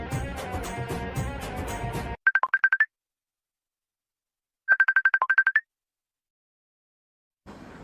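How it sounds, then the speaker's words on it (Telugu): A phone ringtone sounds in two short bursts of rapid repeated electronic tones, loud and close, separated by silence after a stretch of music. "ఈ టైంలో ఎవరు బాబు ఫోన్?"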